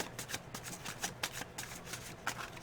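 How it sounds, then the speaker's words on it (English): Tarot cards are shuffled by hand in quick riffling bursts, close and crisp, repeating in a brisk irregular rhythm with no voice over them. "let's see what we have for you with some basic tarot cards here."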